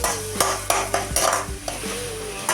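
Chopped tomatoes and onions sautéing in a pan, a steady close sizzle broken by several sharp scrapes and clinks of a spoon stirring against the metal, with no voices.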